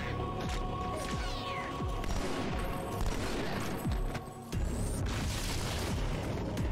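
Repeated booming explosions and bursts of gunfire in Halo 2 crash over a dense, loud background, one blast after another with short gaps.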